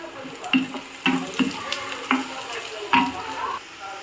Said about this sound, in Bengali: পেঁয়াজ এবং রসুনগুলোকে একটু ভেজে নেব, হালকা লাল লাল করে ভেজে নেব।